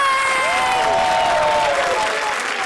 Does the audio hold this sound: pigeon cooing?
no